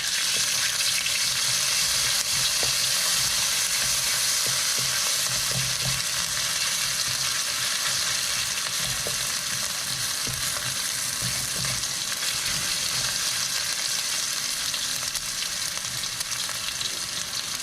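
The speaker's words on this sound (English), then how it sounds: "4 tablespoons of oil. Add in the fennel seed, garlic, and also ginger." Fennel seeds, garlic and ginger frying in about four tablespoons of hot oil in a wok, giving a steady, loud sizzle that runs unbroken throughout, with faint stirring underneath.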